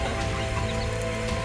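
Roosters cluck nearby on a backyard farm where chickens and pigs are fed, giving a brief, close burst of clucking over a steady outdoor background.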